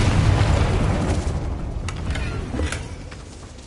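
Booming explosion from the Confringo blasting spell in Hogwarts Legacy, a loud sustained rumble heavy in the low end with scattered bursts and crackles fading slightly over several seconds.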